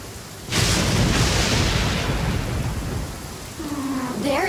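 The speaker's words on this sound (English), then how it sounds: "It always rains when I go on an adventure." Genshin Impact game audio: a sudden rumble of thunder bursts in and rolls for a couple of seconds over steady pouring rain, followed by a brief voice near the end.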